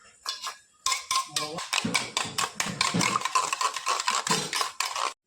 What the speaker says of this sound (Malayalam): നമുക്ക് നല്ലോണം ഇളക്കുക.